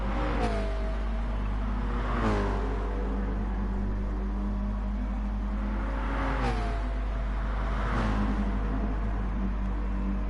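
A Mercedes race car in Gran Turismo at Blue Moon Bay accelerates hard along a straight. The engine note climbs repeatedly through gear changes, loud and continuous, with no voices.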